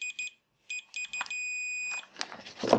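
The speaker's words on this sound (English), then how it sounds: "So I'll use my multimeter just to check the continuity between these two." Multimeter continuity tester on a soldering-iron grounding check, giving several short electronic beeps followed by one sustained tone, with faint handling clicks and rustling at the end.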